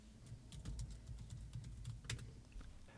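Keystrokes on a computer keyboard as a command is typed into the Anaconda prompt, a quick irregular run of close, crisp clicks over a low steady hum, with no talking.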